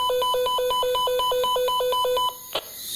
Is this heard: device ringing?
yes